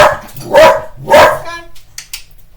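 A puppy barking indoors in a home kitchen, two or three loud, close, sharp barks spaced about half a second apart, followed by quieter yips.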